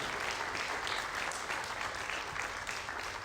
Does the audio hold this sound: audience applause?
yes